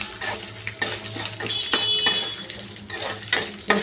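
Four dried red chillies go into a pan and are stirred, with close metallic scraping and clinks of the utensil against the pan over a light background sizzle.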